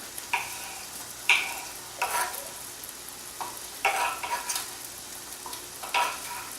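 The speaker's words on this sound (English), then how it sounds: "once the eggs start cooking, I just throw all the vegetables in there together" Eggs and chopped vegetables frying in a pan, a soft continuous sizzle broken by several louder scraping bursts of a utensil stirring, close and without speech.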